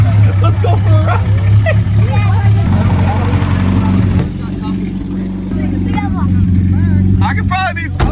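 A 1961 Mercedes-Benz 190 that sat for more than 35 years drives off. Its engine drones loud and close under constant cabin talk, and a dog yips in the background.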